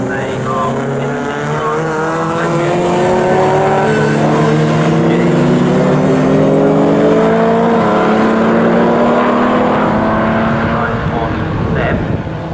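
Race cars from the 1960s compete at Snetterton, their engines roaring loud and continuous. The pitch climbs as they accelerate and power through the corners.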